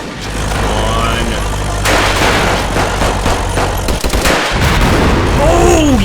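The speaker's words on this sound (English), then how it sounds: "what I'm going to try to do is pepper this area with grenades" Grenades and gunfire burst in a war video game set in the 1935 Second Italo-Ethiopian War, loud and dense with booms and rattling shots, shifting into a heavier blast partway through.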